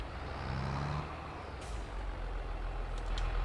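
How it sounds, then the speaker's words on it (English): A diesel tractor or truck idles steadily on a farm while dropping off a trailer, with a short hiss of air releasing partway through and the low engine rumble continuing underneath. "I'm just going to drop this trailer here"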